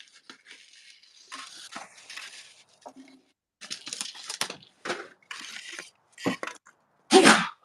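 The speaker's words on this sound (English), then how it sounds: "I had to sneeze off camera there." A person sneezes off to one side indoors, with quieter breathy bursts and rustles leading up to a loud, abrupt sneeze near the end.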